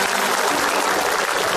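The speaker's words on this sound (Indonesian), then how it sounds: "Itu semuanya tepuk tangan benar." Studio audience applause at an Indonesian comedy talk show, a dense steady wash of clapping filling the whole moment with no voices on top.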